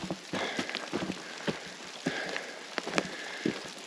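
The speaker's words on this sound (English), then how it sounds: "combination of hail and rain." Hail and rain falling outdoors on a hillside, a steady wash of drops with scattered sharper ticks and pattering impacts close by, no voices.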